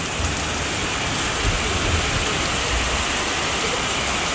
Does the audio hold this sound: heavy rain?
yes